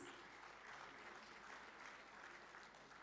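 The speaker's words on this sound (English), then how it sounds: "With a round of applause from the audience" An audience at a national government conference in India applauds; steady, even clapping fills the hall at a faint, distant level with no voices.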